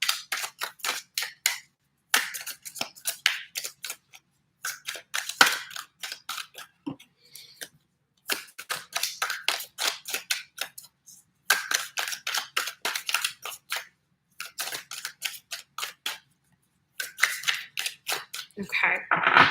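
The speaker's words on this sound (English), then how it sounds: "let me give this deck a little bit of a shuffle here before we begin" A deck of tarot cards is shuffled in repeated bursts of crisp riffling, each run of fast flicks separated by short pauses, close and fairly quiet.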